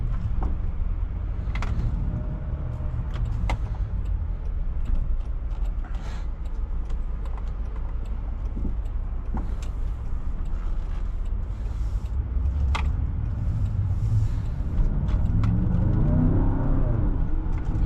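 2025 Land Rover Defender 110 OCTA on a test drive, a steady low engine and road rumble with cabin creaks and mechanical noises, and a rise in revs near the end.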